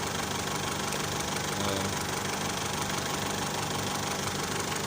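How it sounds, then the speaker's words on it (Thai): An Isuzu D-Max pickup's diesel engine idles evenly and close by, with a constant low rumble and a faint knocking texture, no voices. "เครื่องนิ่งมากไม่มีสั่นเลยดูนิ่งกลิบเลยครับ"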